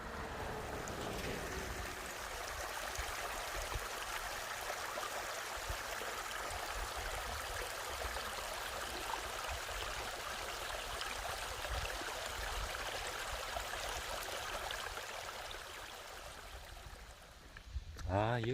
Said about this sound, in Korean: 여기 저 옆으로 저 흐르는 계곡물이 진짜 맑습니다.